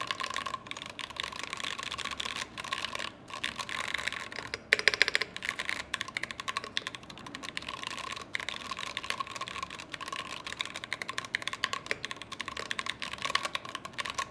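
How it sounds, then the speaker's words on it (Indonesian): Fast, steady clacking of keystrokes on a Rexus Daxa mechanical keyboard fitted with a resin case, close and crisp, with no talking. "Jadi kita typing test ya pakai resin case ini."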